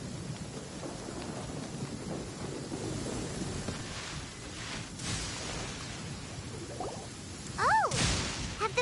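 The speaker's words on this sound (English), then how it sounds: "Did you know that the sound of thunder is the prelude to new life?" During the Sumeru Archon quest of a video game, rain hisses steadily while low thunder rumbles beneath it, and a brief rising tonal sweep appears near the end, with no talking.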